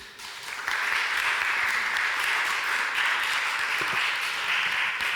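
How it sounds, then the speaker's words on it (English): An audience at a finance conference gives sustained applause, a dense wash of many hands clapping that swells in after a moment and holds steady and loud until the end. "A great applause to all of them."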